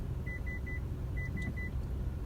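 Rear cross traffic alert in a 2018 Toyota Camry, six short, evenly pitched electronic beeps in two quick groups of three over a low, steady engine and road rumble.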